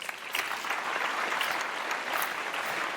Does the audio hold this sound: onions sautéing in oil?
no